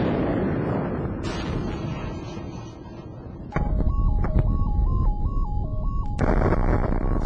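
A blast test on an untreated concrete block wall of a building: a loud, sustained roaring rumble that jumps in strength midway, with steady electronic beeping tones over it.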